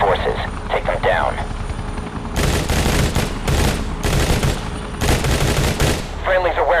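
Repeated bursts of automatic gunfire in the mobile shooter game Modern Combat 3, loud and close over a constant helicopter rotor drone, with radio voices talking between the volleys.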